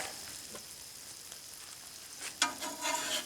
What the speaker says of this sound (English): starting to get a little bit of sizzle